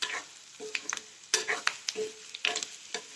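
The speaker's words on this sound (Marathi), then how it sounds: "आता हे कांदा चांगला भाजून घेते बिना फोडणी नुसतं तेलात कांदा भाजून गेले" Onion frying in plain oil without tempering, stirred in short scraping strokes against the pan over a soft sizzle, close by with no talk.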